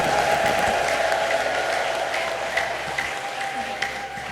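A congregation at a lively Ethiopian church service applauds for the Lord, sustained clapping with scattered sharper claps and a sustained vocal tone running underneath, fairly even in level throughout.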